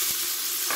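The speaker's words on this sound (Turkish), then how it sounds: "Ve soğanlarım rengi değişene kadar kavuruyorum." Finely chopped onion sizzles in hot oil inside a pressure cooker, a steady close frying hiss with a couple of soft stirring scrapes, no talk.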